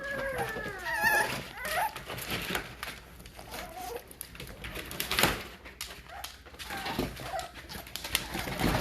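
Tri-color American pocket bully puppies whimper and yelp in short, high-pitched bursts, loudest near the start, over a busy, noisy background.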